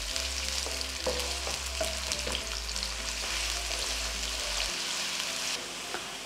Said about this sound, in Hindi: प्याजों को हम फ्राई करेंगे गोल्डन ब्राउन होने तक।